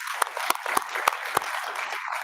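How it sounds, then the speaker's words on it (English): Sparse applause from a small audience at a startup accelerator pitch event: about five distinct, evenly spaced sharp claps over a faint background hum. "Can you give her a round of applause for that?"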